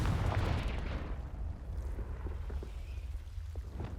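A Confringo blasting spell goes off in a Harry Potter-style video game as a deep, rumbling explosion that booms at the start and then fades into a low rolling decay with scattered crackles.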